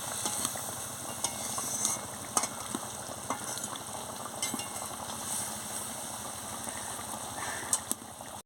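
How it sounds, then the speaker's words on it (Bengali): A pot of fish curry with pointed gourd and tamarind bubbling on the stove, a soft continuous simmer with faint popping and occasional light clinks of utensils, fairly quiet throughout. "বন্ধুরা দেখুন কীরকম ফুটছে মাছটা"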